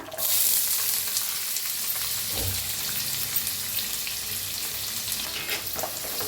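Chopped onion fries in hot oil in a pan along with crackling cumin and mustard seeds, giving a steady, close, bright sizzle throughout with a brief stirring scrape partway through and no talking.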